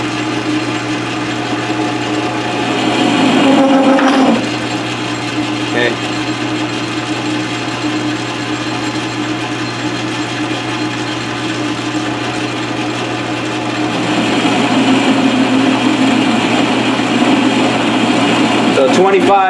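A South Bend 13-inch lathe making a cut during tailstock repair, a continuous steady machine whir with a constant hum that grows slightly louder in places, and a voice talking over it.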